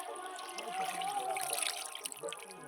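Pieces of desi chicken are rinsed in water, with faint splashing, trickling and sloshing close by.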